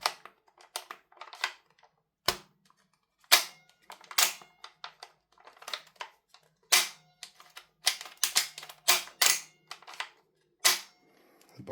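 A KWA/KSC MP9 gas blowback airsoft gun's bolt is racked and sticks, giving a series of sharp metallic clacks and snaps in irregular bursts, close and crisp, with quiet gaps between.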